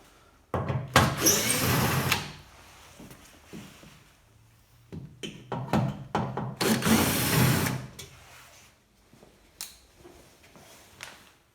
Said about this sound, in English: Next up, remove the two screws on the corners.